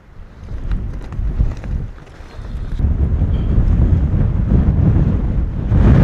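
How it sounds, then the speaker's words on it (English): Strong storm wind buffets a campsite in gusts, with a rough broadband roar that builds and stays loud, wind noise hitting the microphone throughout. "It's real windy."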